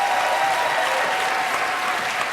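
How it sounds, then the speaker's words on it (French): Studio audience at a live Quebec reality-TV gala broadcast applauds steadily, a dense, loud wash of clapping that holds evenly throughout with no speech over it. "Parce que les applaudissements que j'entends, ça me suffit"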